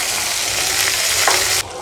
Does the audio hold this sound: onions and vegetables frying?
yes